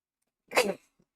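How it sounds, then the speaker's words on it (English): A single short, sharp sneeze bursts out close by, with a faint breath after it, in an otherwise quiet room. "Oh, I have to sneeze again."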